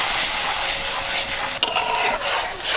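A yogurt and spice paste, thinned with the water used to rinse the spices, is stirred in a kadai: a close, continuous wet scraping and gentle sizzle, briefly broken by a couple of sharper utensil scrapes.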